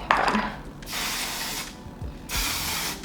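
Two short bursts of a fine mist of makeup setting spray hiss close by, separated by a brief pause, with light handling noise at the start.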